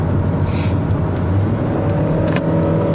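A car driving up a hill gives a steady, loud engine drone and road rumble from inside the cabin, holding constant without pauses.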